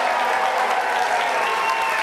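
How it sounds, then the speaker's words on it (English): A live audience at a motivational event bursts into loud, sustained applause and cheering to pick the best cheerleader, a thick wash of clapping and shouts holding steady throughout. "If you think the best cheerleader is this one over here, cheer now."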